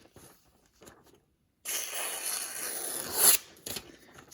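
A freshly sharpened knife, honed on a Spyderco medium bench stone, slices through a sheet of paper in a sharpness test: a brief quiet tap, then a steady close crisp hiss of cutting lasting about two seconds, rising at the end before stopping.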